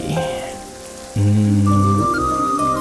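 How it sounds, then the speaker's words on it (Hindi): Heavy rain falling outdoors, a loud, steady wash that swells up sharply partway through and continues alone with no talking. "बाहर आया तो ये जोरों की बारिश शुरू हो गई"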